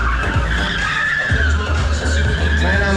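A Mazda MX-5, about 80% stock with few modifications, skids at a driving skill competition, its tires squealing steadily over the engine note while it circles nearby.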